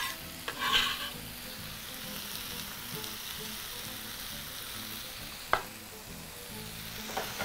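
Coriander being tossed into a liver stew and mukimo mixture in a pan, with a soft steady sizzle and scraping stir, a few sharper clinks of the utensil against the pan.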